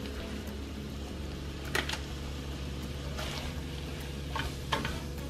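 Ground turkey with a packet of taco seasoning simmering in a pan on the stove, a steady low bubbling sizzle with a few brief scraping stirs, close and fairly quiet, no voices.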